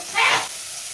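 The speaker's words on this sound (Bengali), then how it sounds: "তাই আমিও ভাজছি।" Vegetables fry in a hot pan for a spicy Bengali bhorta, a brief loud sizzling burst that swells and then settles into a softer steady hiss, with no one speaking.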